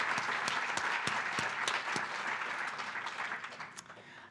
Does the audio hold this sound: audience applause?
yes